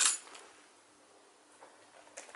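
Keys drop into a Balenciaga PomPon handbag with a quick, close metallic jingle at the start, followed by near silence and a faint rustle at the end.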